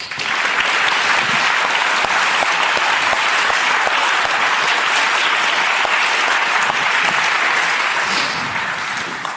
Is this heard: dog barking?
no